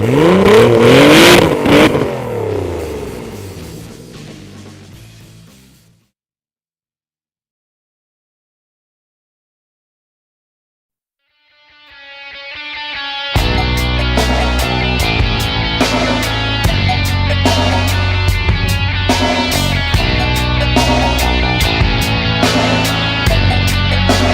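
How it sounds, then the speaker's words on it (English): A car exhaust system from Ray's engineering revving hard under full throttle, loud and close with a brassy, blaring tone. A short burst of revving fades to silence, then a steady roar returns and holds at high volume. "When the gas pedal is mashed to the floor, the main piping section opens up to allow movement of heavy exhaust gases and emits a loud, bracy tone"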